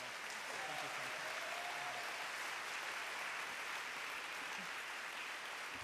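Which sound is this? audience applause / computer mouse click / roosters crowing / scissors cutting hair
audience applause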